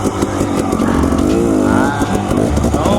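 A Husqvarna TE250 dirt bike rides upstream along the Middle Fork Boise River, its engine loud and close, revving up and down through a gear change with a rough, burbling exhaust note.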